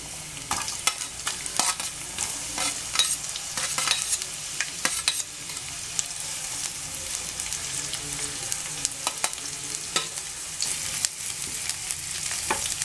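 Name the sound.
onions frying with garlic in a pan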